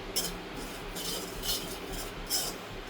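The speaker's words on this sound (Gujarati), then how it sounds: "હલાવ્યા કરવાનું બ્રાઉન કલરનું થાય ત્યાં સુધી એને શેકવાની છે" A spoon scrapes and stirs semolina (rava) being dry-roasted in a pan for rava sheera, making soft, rhythmic strokes about twice a second with faint metallic clinks, close and quiet, with no voices.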